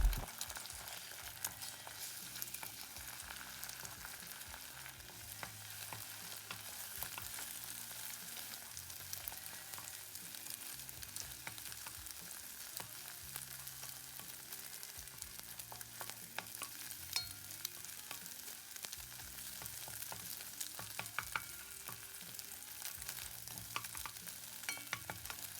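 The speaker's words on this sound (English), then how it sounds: "I've already preheated some oil and I'm going to add the eggs to cook for about 10 seconds and then I'll give it a good stir to scramble it." Eggs fry in hot oil for fried rice, giving a steady bright sizzle throughout, with soft scraping and stirring sounds underneath as they are scrambled in the pan.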